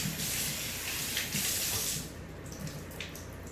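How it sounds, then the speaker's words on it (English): Really hot water runs hard from a tap for washing a face mask, a loud steady hiss of splashing flow that drops to a softer trickle partway through. "Then I take hot water again. Really hot water."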